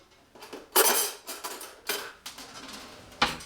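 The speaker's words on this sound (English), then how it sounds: "Just to mix around our veggies just a little bit." Spoon clinks against a bowl while tossing vegetables for potato salad, a series of sharp, close metallic taps in an uneven rhythm, with no talk.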